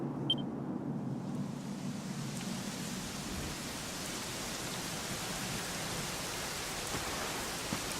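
Steady rain falls in the video game Dragon Quest XI, a soft, even hiss of drops pattering on surfaces that runs unbroken throughout at low volume, with a deeper rumbling undertone early on.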